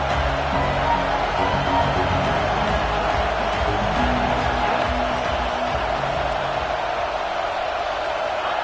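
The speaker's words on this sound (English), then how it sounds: "This crowd trying to make life miserable for this offense." A packed college football stadium crowd for Clemson versus LSU roars in a constant, dense wash of noise that holds steady throughout.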